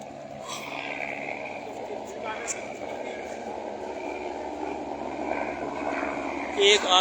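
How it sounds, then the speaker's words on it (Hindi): Helicopters arriving and leaving at the Kedarnath pilgrimage site make a steady, distant rotor-and-engine drone, with someone talking continuously over it. "एक आता हुआ हेलीकॉप्टर, एक जाता हुआ।"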